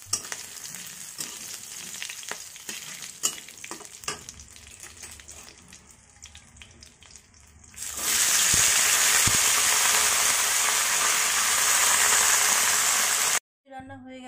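Bay leaves and dried red chillies fry in hot oil in a wok, starting as a low crackle beneath faint clatter, then swelling into a loud, steady broadband sizzle that runs for several seconds before cutting off abruptly.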